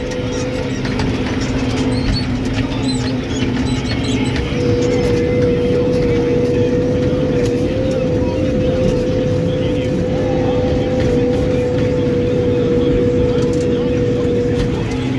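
A loud, steady engine of a Case JX110 tractor drones across a muddy field with a sustained low hum and rattling, heavy machinery running continuously up close.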